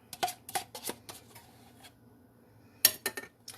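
A spoon mixing cornbread batter in a bowl, a series of clinking, scraping strokes in uneven bursts, close but fairly quiet, with a pause before a sharper clatter and a few more scrapes.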